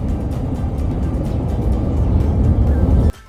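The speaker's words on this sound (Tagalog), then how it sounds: "naririnig ko yung ingay ng jet ng Taiwan." A Taiwanese military jet on patrol roars steadily as a broad, loud rumble for about three seconds, then cuts off abruptly; no talking.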